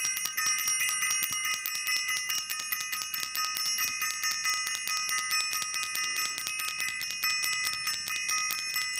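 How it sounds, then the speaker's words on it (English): A bell rung repeatedly at a steady pace, its bright ringing tones sustained and layered throughout, fairly loud with no voices. "I want to ring the bell."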